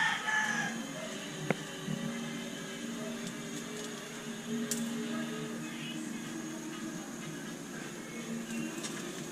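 Native chickens under a constant noisy hum with a distant rooster crowing faintly, plus scattered clucks and small clicks throughout.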